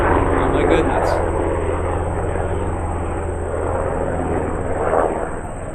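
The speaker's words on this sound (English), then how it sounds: "Now I might just well let that helicopter go by." A helicopter passes overhead as a loud, steady rotor and engine roar that fills the whole stretch, with a person talking beneath it.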